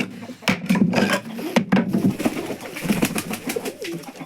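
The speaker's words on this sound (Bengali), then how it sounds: "ফার্স্ট সকল কবুতরগুলো ছেড়ে দিই।" Pigeons on a farm coo and flutter as they are let out of their loft, with soft throaty calls and wooden knocks and clatters of the cage close by.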